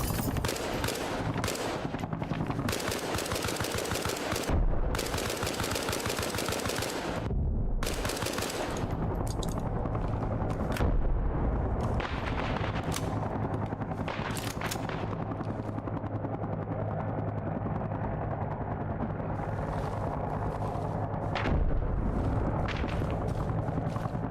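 Heavy gunfire in modded Gogland, a hardcore PvE shooter: sustained machine-gun bursts and booming impacts rolling continuously and loudly, with brief pauses between volleys.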